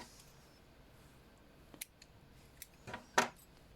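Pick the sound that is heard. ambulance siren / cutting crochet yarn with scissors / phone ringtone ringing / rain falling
cutting crochet yarn with scissors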